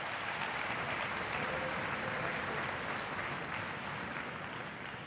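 Steady, dense applause from a concert audience at a high school music festival in Philadelphia, sustained evenly for several seconds without a break.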